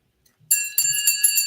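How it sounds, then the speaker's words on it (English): A bright shame bell rung in a chat about Game of Thrones, giving clear metallic clinks with ringing overtones, several strikes in quick succession after a brief quiet start, close and fairly loud. "Jay, I'm going to be ringing the shame bell all night."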